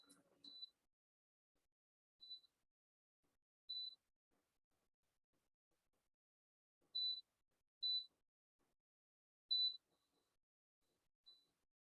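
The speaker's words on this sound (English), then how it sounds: "Why is it beeping?" An unidentified device beeps in a quiet room: short, thin, high electronic beeps, about seven in all, spaced irregularly over several seconds, faint and isolated with near silence between.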